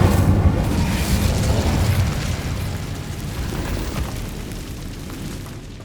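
An Incendio fire spell cast in Hogwarts Legacy, a loud roaring whoosh of flame with a low rumbling body that slowly fades over several seconds, heard alone.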